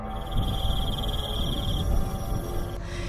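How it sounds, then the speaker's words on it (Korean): Crickets chirp in a forest as a steady, high, pulsing trill over a dense, noisy low background. The trill stops after about two seconds. "그런데 정작 숲에선 귀뚜라미 소리만 들려오는데요"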